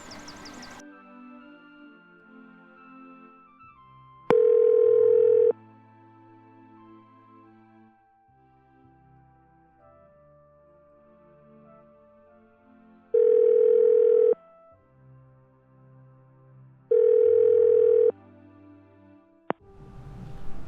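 A phone call rings out unanswered: three separate bursts of a steady ringback tone, spaced several seconds apart, sound over quiet background music.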